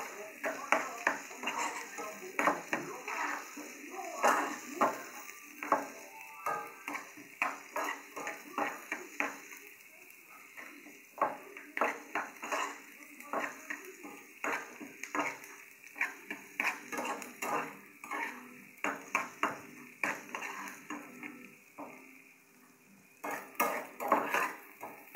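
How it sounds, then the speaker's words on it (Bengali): Spices fry in a pan on a home stove while a utensil stirs them, giving repeated clinks and scrapes over a low, steady sizzle. A voice speaks quietly at times. "এখন এগুলা ওই মশলা ভাজি করবো তো।"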